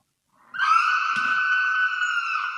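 A terrible, drawn-out wail from behind a stone wall rises suddenly and holds at a high, steady pitch, loud and close, with a brief rough catch partway through.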